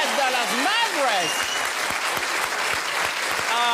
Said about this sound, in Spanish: Un aplauso para todas las mamás en este el mes de las madres.